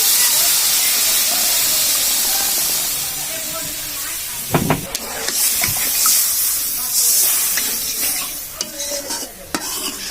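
Water poured onto fried turmeric, coriander powder and green chillies in a hot pan gives a loud, broad steam hiss that settles into a bubbling sizzle, with clattering spatula strokes and scrapes later on.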